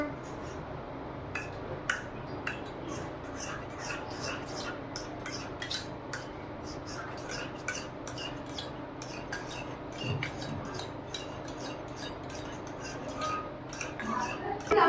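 Egg and salt whisked in a bowl for a cheese omelette, a steady run of quick metallic clinks and scraping strokes, close and fairly loud, with a short voice near the end.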